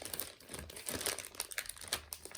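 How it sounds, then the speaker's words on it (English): A plastic packet holding Velvet Quick Detailer spray wax crinkles and rustles as hands work to pull it open, a close, quiet run of irregular crackles with no talking. "So let's take this out of the packet, if we can actually open it."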